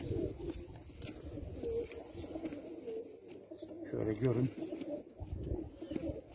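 Tumbler pigeons coo in soft, repeated throaty rolls close by, mixed with someone talking over and between the calls.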